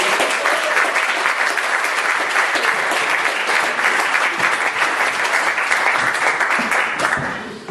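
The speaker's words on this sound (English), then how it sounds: "please whoop, cheer, shout and rattle things" Opera festival showcase audience in Bradford applauding loudly, dense sustained clapping with cheers lasting several seconds before tapering off at the end.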